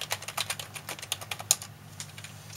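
A short run of rapid keystrokes on a computer keyboard, close and fairly quiet, ticking in an uneven rhythm over a faint background hum.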